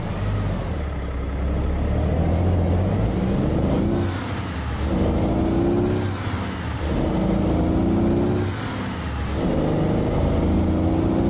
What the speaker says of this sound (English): Sounds pretty nice. I can't remember what kind of engine's in this truck.